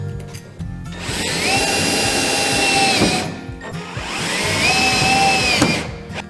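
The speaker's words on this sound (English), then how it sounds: "I'm mounting the top bracket first with some self-tapping screws." A power drill drives self-tapping screws into a top bracket on a van, in two sustained whirring bursts with rising pitch, each spinning up, running for a couple of seconds and winding down, close and loud with no talking.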